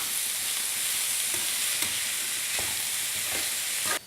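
Onions, curry leaves and masala fry until brown for a chicken bone kurma, a loud, dense, unbroken sizzle heard up close, with occasional faint stirring scrapes and a sudden drop near the end.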